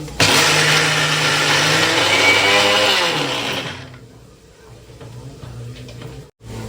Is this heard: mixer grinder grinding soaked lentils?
yes